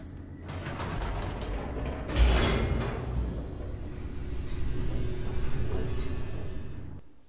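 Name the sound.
elevator descending in The Stanley Parable video game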